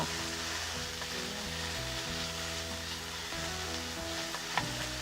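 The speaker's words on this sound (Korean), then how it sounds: "양파를 볶아주세요." Half an onion sautéing in butter for a mushroom cream soup, a steady close sizzle with occasional stirring scrapes throughout, no voices.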